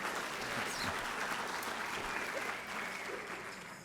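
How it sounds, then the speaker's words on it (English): Steady audience applause at a rural arts and culture summit, an even, sustained wash of many hands clapping with no talk over it, easing slightly near the end. "So I would like for y'all to give yourselves a round of applause"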